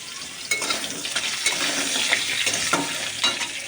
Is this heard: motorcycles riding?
no